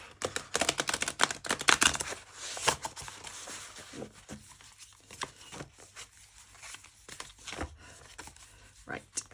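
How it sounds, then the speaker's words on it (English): Stiff tarot cards being shuffled, a burst of rapid crisp riffling and slapping up front, then scattered softer flicks and taps close by. "One more shuffle."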